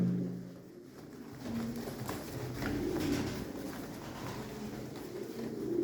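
Pigeons in a loft, giving low soft coos that repeat in short phrases close by, with light rustling and a faint voice in the background.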